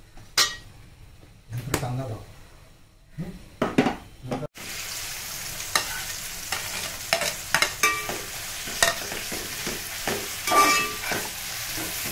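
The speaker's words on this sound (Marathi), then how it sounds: "आता मी कांदा घालत आहे।" Onions dropped into hot oil in a pot while cooking chicken biryani, with a few clanks and stirs before a sustained sizzle and frying hiss begins, interrupted by scraping utensil strokes close by.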